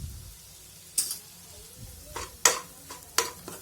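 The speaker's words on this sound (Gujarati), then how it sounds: "અને સારી રીતે એને હલાવી નાખો, બધું મિક્સ થઈ જાય" Kantola (spiny gourd) curry with spices is stirred in a frying pan, a soft sizzle underneath sharp scraping clinks of the spoon against the pan, about five separate strokes spaced irregularly.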